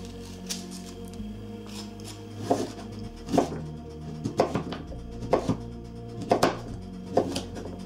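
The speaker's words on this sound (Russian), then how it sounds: "нарезаем кусочками толщиной меньше сантиметра" A knife cuts quince into pieces under a centimetre thick on a board, making a series of crisp, evenly spaced chops up close with no talking.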